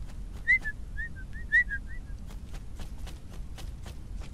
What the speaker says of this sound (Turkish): Beyler çok ıslık çalmayın da.